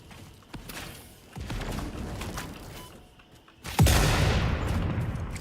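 Loud explosions go off in Satisfactory, a series of sharp booms and crackling blasts, the biggest near the end trailing into a long roaring decay, heard close with no talk.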